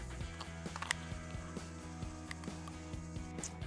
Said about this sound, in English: you can just hear these good poultry shears just chomping through those bones